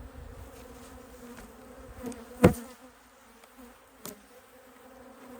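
Honeybees buzz in a steady, close hum while an October hive's brood frame is inspected, with a couple of brief knocks from handling the frames and no voices.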